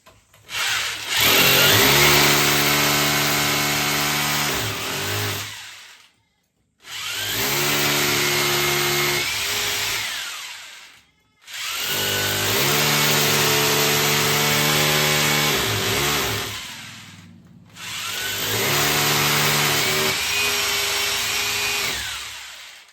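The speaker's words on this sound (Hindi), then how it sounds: "तो इस जगह पे इसको ड्रिल कर लिए।" A power drill runs in four long bursts of steady whining drilling, each lasting several seconds with short pauses between, loud and close with no talking.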